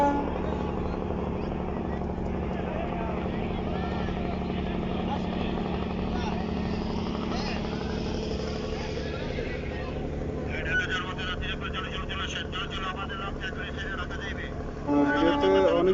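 Diesel engines of passenger launches rumble steadily at Mangalshikdar launch ghat, a continuous loud drone with a crowd of people talking throughout and a brief louder surge near the end.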